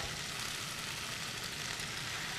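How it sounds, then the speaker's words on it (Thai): XO sauce cooked with sugar, oyster sauce and soy sauce for beef fettuccine sizzles steadily in a hot pan, a soft continuous frying hiss with no voices. "ผัดให้เข้ากันดีครับ"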